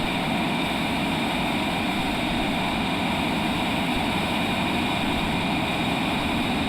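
Cessna Citation Longitude business jet engines spooling at full takeoff power, a steady, loud, broadband roar that holds evenly throughout with no talking.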